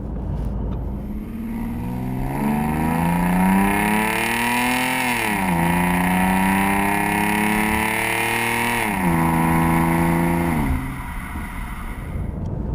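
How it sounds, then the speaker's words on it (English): A Mustang V6 fitted with a stainless steel Roush axle-back exhaust revs hard, its loud engine note climbing and dropping through several pulls before easing off, with nobody talking. "when you get on it, then it does have a nice aggressive sound as well."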